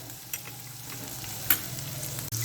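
Onions fry in a spoonful of oil in a pan for egg noodles, a soft steady sizzle with a couple of brief stirring clicks, close but fairly quiet, no speech.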